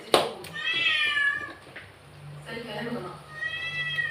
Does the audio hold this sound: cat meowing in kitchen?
yes